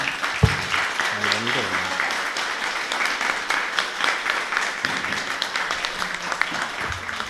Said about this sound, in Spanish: Así que te queremos, Hugo, entregar este recuerdo. Un aplauso